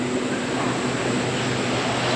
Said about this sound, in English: We'll just see the train go.